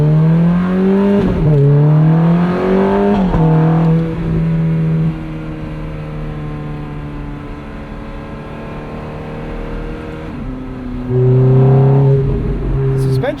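A 2008 Ferrari F430 Spider's V8 revs hard several times, pitch climbing and dropping between surges, loud and close, then settles to a steady drone before another sharp rev near the end.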